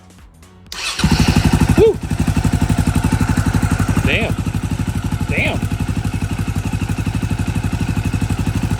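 A KTM 530 motorcycle engine catches after a brief cranking moment and settles into a loud, steady, rapidly thumping idle close by, with short excited shouts breaking in over it.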